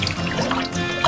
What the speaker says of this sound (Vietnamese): Đến đây các bạn nên xả nước lên một chút nhé, bởi vì nó sẽ rất là cay.